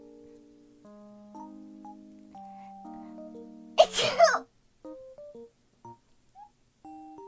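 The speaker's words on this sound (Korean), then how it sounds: "내 재채기도 너무 귀엽지?" A single sharp, playful sneeze bursts out between stretches of tonal sound and a child-like voice, loud and close, followed by a brief rustle.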